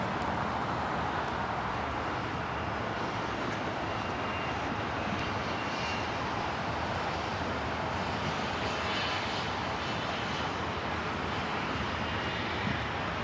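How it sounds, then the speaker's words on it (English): A Cessna 560XL Citation business jet arriving at LAX from San Luis Obispo gives a steady, even jet roar that fills the whole stretch, with no voices over it. "It's a Cessna 560XL Citation coming in from San Luis Obispo."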